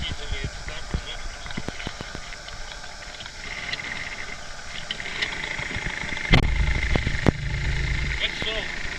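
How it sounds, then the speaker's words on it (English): A small replica outboard engine on a Mirror sailing dinghy in Phuket, unused for two weeks, sputters into life with a loud burst near the end, after clicks and handling noises, and then keeps running. "so let's check how easily it starts or not"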